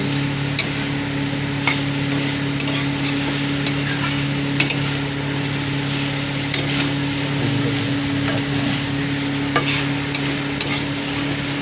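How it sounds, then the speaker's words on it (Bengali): Lau shak (bottle gourd greens) stalks with poppy seed being stirred in a pan, a spatula scraping in steady, irregular strokes over a constant close sizzle of frying. "দিয়ে আমি এইভাবে নাড়িয়ে নেব ভালো করে"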